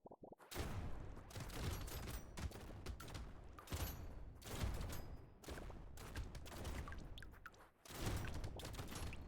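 Rapid bursts of shotgun fire from the video game Brotato, loud and near, blasting in dense clusters with only brief pauses between volleys.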